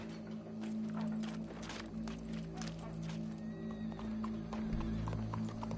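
Horse hooves clip-clopping in the Red Dead Redemption 2 video game, a steady run of hoof falls over a low humming background, with a faint whinny-like tone and occasional game voices.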